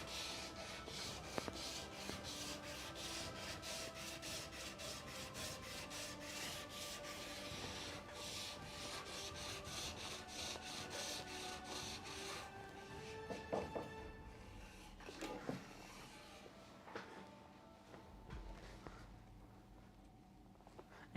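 Sandpaper or a sanding block worked by hand against the inside of an old wooden door under restoration, a steady repeated rasping scrape close to the mic, with a few knocks and scuffs near the end.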